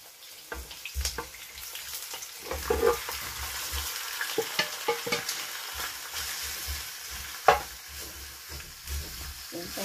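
Pork meat frying with onions in a pan gives a steady close sizzle, broken by frequent stirring scrapes and clatters, with no talking.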